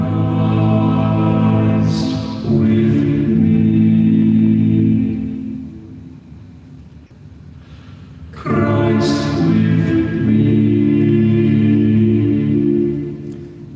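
A vocal ensemble sings The Deer's Cry in sustained, blended choral chords, two long phrases separated by a softer held passage, with rich layered harmonies and no speech.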